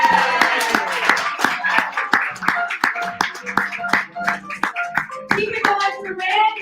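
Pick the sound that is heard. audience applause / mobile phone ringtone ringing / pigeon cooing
audience applause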